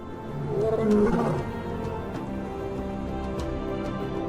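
A lion in the Namib Desert of Namibia lets out a deep, rumbling roar that swells loudly during the first second and a half, then trails into a low, steady growl against open desert ambience.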